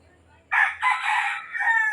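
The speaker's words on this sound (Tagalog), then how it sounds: "So, ayan po yung mga manok ko. Ayan, nasa loob." A rooster crows once, loud and close, a single drawn-out call that rises then trails off.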